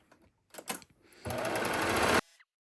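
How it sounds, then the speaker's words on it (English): A serger sewing machine stitches stretchy fabric for a pair of shorts, starting with a few short stuttering bursts, then one steady close whirring run of about a second before stopping. "now that I have that serged"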